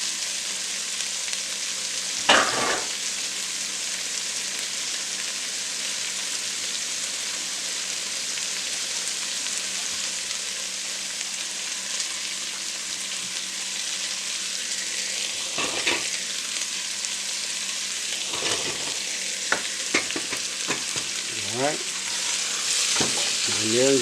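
Meat and garlic sizzle steadily in a pan on the stove for a hearty beef stew, with a few sharp scrapes and clatters of the stirring utensil standing out above the continuous frying hiss.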